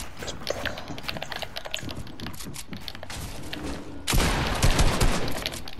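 Pump shotgun blasts ring out in a video game, a rapid scatter of sharp bangs followed by a louder, denser burst of gunfire near the end.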